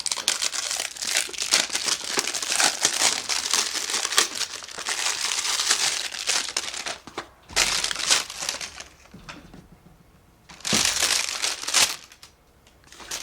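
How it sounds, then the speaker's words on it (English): A blade cuts into the plastic packaging of a FlipSky VX2 remote with loud, close crinkling and crunching, sustained for several seconds, then a pause and a final burst of crumpling. "open up the FlipSky Vx2 remote. We'll just go ahead and cut on into that bad boy."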